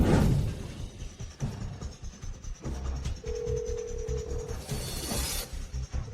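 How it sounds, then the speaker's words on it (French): A phone's calling tone sounds once as a steady, held pitch of about a second in the middle, over a busy indoor background of soft clatter and movement. "Réponds au téléphone, Chloé."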